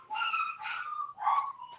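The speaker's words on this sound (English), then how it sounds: "you can hear my dogs crying in the background" Several dogs whimper and cry in high, wavering whines, a few drawn-out cries one after another at moderate distance, with no talk over them.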